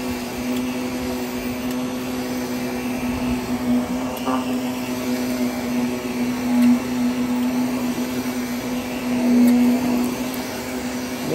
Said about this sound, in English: So we have it flipped over and I'm vacuuming the back right now.